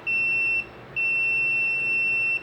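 Continuity tester beeping while checking the windings of a microwave oven transformer: a steady electronic tone holds, breaks off for about a third of a second, then sounds again continuously, with no talk.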